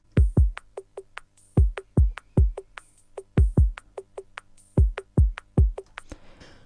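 Lo-fi beat of an EQ'd 90s keyboard playing short plucky chords over a deep, punchy kick drum, the kick thumping in a loose repeating pattern with the keys stabbing between hits.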